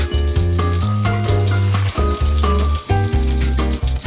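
Butter sizzles in a hot pan while cooking creamy sizzling squid, a soft frying hiss running under prominent melodic music.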